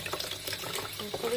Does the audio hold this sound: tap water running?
yes